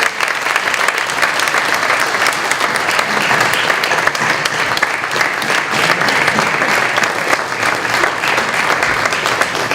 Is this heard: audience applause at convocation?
yes